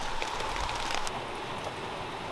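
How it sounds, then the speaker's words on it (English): Rain falling steadily on a backyard homestead garden, a close, even hiss of drops with faint patters, heard alone and without a break. "Oh, here comes more rain."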